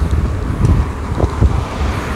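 Wind buffeting a microphone outdoors on a city street in Tampere, Finland, a steady low rumble with gusty swells throughout, no voices.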